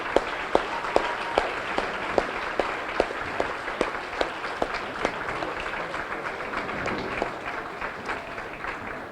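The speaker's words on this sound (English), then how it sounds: "How about a big round of applause for all the bowlers here this week?" An audience at the Team USA bowling trials stepladder finals applauds in a moderate, steady patter, with a few sharp claps standing out at regular intervals over the ongoing clapping.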